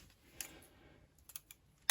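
Scissors snip through string while a Staghorn fern is mounted on moss, giving a few quiet, sharp clicks spaced apart, with a louder snap at the very end.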